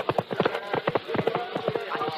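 Hooves of a horse clip-clop in a brisk, even rhythm as a rider departs in a radio drama, close and clear with no voices over them.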